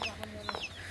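Chickens cluck near a coop in a short close burst of clucks and squawks, moderately loud over faint background noise.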